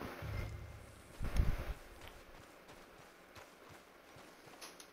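Horse hooves clip-clopping at a walk in the video game Red Dead Redemption 2, a steady rhythm of moderate hoofbeats with a louder cluster early on over light outdoor ambience.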